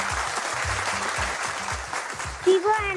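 A television quiz-show audience applauds a contestant named Klara. The dense, steady clapping runs throughout over a rhythmic musical beat and ends with a brief rising tone.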